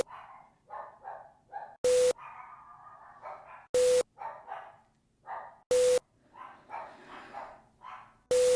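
A dog barks in short separate bursts and yips, spread through the clip with pauses between, fairly close and clear, while loud electronic beeps cut in at intervals.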